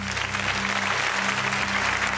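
A large crowd applauds in a steady, dense wash as three guests are welcomed onto a stage, continuous and loud throughout, with a low hum beneath.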